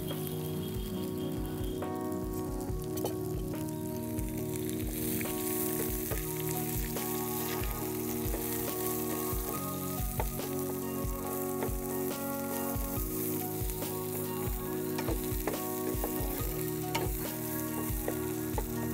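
Chopped onions, garlic, ginger, green chillies and curry leaves frying in hot oil for a jackfruit seed and drumstick leaf stir-fry, giving a loud, dense, continuous crackling sizzle with occasional spoon taps, close up throughout.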